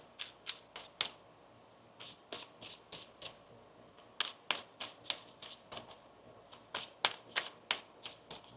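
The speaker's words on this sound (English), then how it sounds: "One more shuffle." Tarot cards are shuffled by hand in a quiet room, with sharp, close riffling snaps arriving in irregular quick bursts and short pauses.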